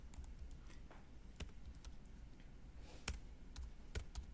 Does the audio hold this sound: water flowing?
no